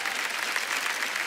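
Audience clapping on a comedy competition show, a short burst of loud, even applause from a studio crowd.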